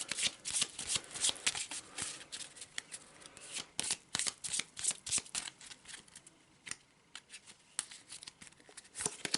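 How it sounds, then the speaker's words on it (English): Cards riffled and flipped at a tabletop board game, a dense run of crisp papery snaps and slides, close and fairly loud, with the odd faint murmur. "let's draw another darkness card"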